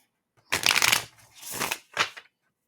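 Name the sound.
shuffling an oracle card deck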